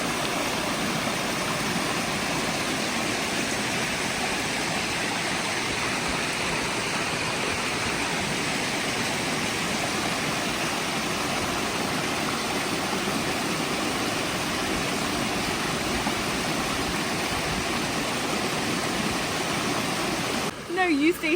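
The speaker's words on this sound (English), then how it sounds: "Found the waterfall and it is so pretty." A small waterfall in the Peak District rushes with a steady, dense roar of falling water, heard close and constant for the whole stretch.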